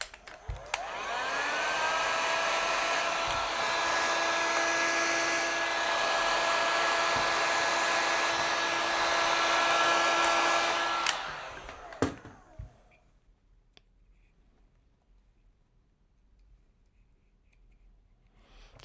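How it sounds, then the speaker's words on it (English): A small heat gun, used on a VFC KS1 airsoft gun part, blows with a steady high whirring hiss for about eleven seconds. It cuts off with a click, leaving near silence and a few faint handling taps. "Okay, little heat gun."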